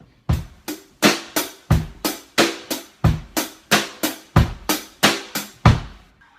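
A steady drum beat in 4/4 common time with sharp, evenly spaced hits in a regular four-count pulse, loud and close, with no voices.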